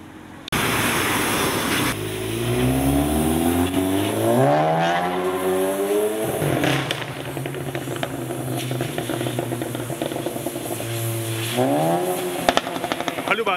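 A car engine revs loudly on a busy São Paulo avenue, climbing sharply in pitch over a few seconds, dropping off, then surging again near the end, over a steady hiss of street noise.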